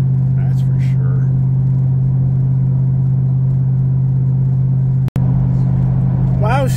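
A race truck cruises along a smooth road with a steady, loud low drone from inside the cab. A brief voice and a short sharp sound come near the end.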